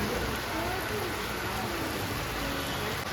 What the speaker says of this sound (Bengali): বৃষ্টিটা আরো জোরে এসেছে।